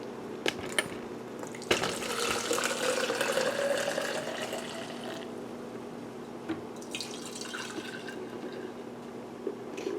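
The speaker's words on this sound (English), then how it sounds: "So then I put mixture into various receptacles." Liquid mixture is poured into various receptacles, a soft continuous trickle and splash with occasional drips and clinks of containers, close by and fairly quiet, with no talking.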